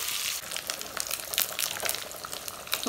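Mustard seeds, urad dal and curry leaves crackle and sizzle in hot oil, tempering for elephant yam sambar; a steady, close hiss runs throughout, with sharp popping bursts scattered along it.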